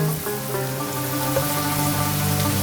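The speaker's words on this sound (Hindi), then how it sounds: "2 छोटे साइज़ के या एक बड़े साइज़ का बारीक कटा हुआ प्याज को हल्का गोल्डन होने तक फ्राई करेंगे।" Finely chopped onion frying in hot ghee, a continuous dense sizzle and crackle heard close and steady throughout, with no voices.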